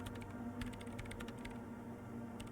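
Keyboard typing in the video game Disco Elysium, a quick run of soft clicky keystrokes over a faint steady hum, fairly quiet and close.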